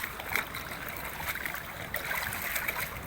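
Shallow water flows steadily through a stream in a rice field, roughly knee-deep, with a constant close trickling and gurgling wash and no speech.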